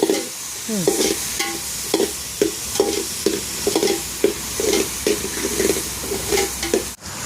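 Chana masala spices with onion being stirred and fried by hand in a large pot for 20 to 25 people, with repeated scraping strokes over steady sizzling, close and fairly loud.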